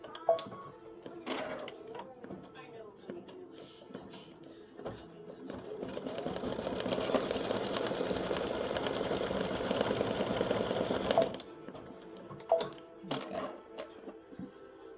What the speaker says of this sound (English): I'm going to stitch the egg now